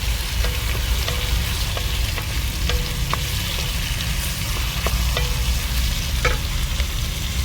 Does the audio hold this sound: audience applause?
no